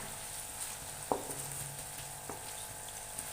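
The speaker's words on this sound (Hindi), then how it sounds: "प्याज, डालकर हमने इसे चंद मिनट के लिए घी के अंदर फ्राई करना है।" Onions fry quietly in ghee in a kadai for a dhaba-style matar keema, giving a faint, even sizzle with a couple of soft clicks from the pan.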